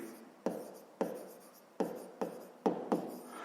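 A pen writes on paper while working a grade-5 maths exercise, giving six distinct strokes with scratchy scraping, close and clear, no talk.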